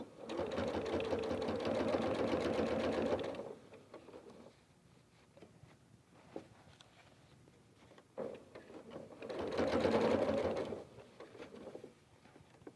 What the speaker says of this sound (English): move the excess fabric out of the way so that you don't end up with a pucker while you're sewing this gusset on